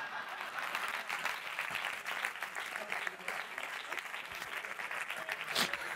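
A theater audience at a film festival closing gala claps continuously in a dense, even wave of applause that holds steady throughout, with a few sharper claps standing out near the end.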